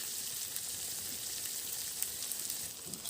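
Fenugreek seeds sizzle in hot oil in a pan as a tempering for a fish dish, giving a steady, crackling hiss with faint pops. The sound is close and continuous, with no talking.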